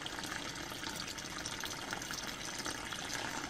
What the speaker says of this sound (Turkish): gördüğünüz gibi antifriz boşalıyor